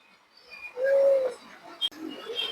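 A pair of silver-breed pigeons coos softly nearby, one low sustained coo rising out of quiet background chatter, with a sharp click and faint chirps after it.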